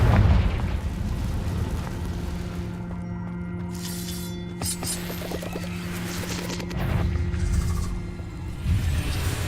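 Confringo fire spell blasts in the Hogwarts Legacy video game, a continuous roaring, crackling explosion with a sustained low drone and bursts of debris across the whole stretch, fairly loud and without talk.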